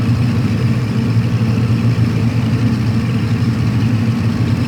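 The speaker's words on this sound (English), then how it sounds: "This is a noisy old plane" A Cessna 310 propeller plane engine in X-Plane 11 idles with a steady, low, rumbling drone, loud and close, with no voices.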